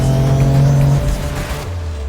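A sports car on a race track holds a high, steady engine note as it revs toward the red line, then the pitch drops sharply at the shift into fourth gear and the engine pulls on with a loud, close roar.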